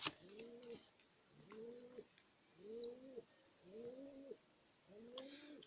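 Pigeon squabs coo in five clear, evenly spaced two-part calls, close and moderately loud, with a faint high chirp from another bird between them.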